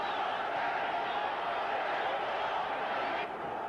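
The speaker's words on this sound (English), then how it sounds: "lots of his fans here as well, and now they're really getting rowdy" A rowdy crowd of boxing fans at a 2016 title fight in front of a home crowd roars in a continuous dense wall of cheering that dips slightly near the end.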